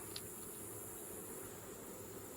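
A steady, faint buzz of honey bees in a Langstroth hive drones on without pause, a dense hum like many bees swarming close together, with no voices.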